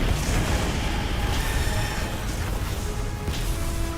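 Heavy, continuous rumbling booms and crashing blasts from the Monster Hunter Wilds fight against Arch Tempered Rey Dau, dense and loud throughout without any clear speech.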